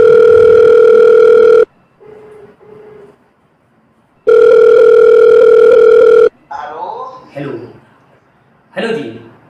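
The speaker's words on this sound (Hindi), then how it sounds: "इनके दोस्त विधायक, इनके परम विधायक को फोन लगाया जाए।" A steady telephone dial tone sounds loudly twice while a phone call is being placed, broken by short gaps with faint tones and followed by brief voices or chuckling.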